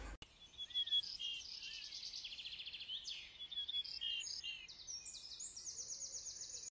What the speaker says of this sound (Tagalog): May ibon na lumipad.